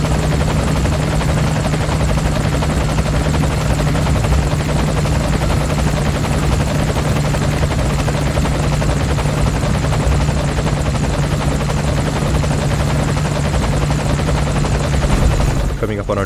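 A helicopter in the Metal Gear Solid 5 video game flies with a loud, continuous rotor thrum and engine whine that persists steadily throughout, with a voice talking over it.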